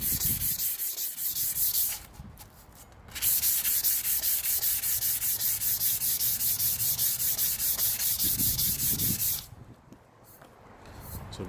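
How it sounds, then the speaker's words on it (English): Close, steady rasping of 220 grit sandpaper rubbed over a tumbler, continuous strokes lasting several seconds with two brief lulls. "got some 220 grit sandpaper from Home Depot, and literally, I think I sanded for about 15 seconds"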